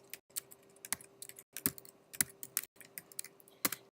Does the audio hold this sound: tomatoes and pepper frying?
no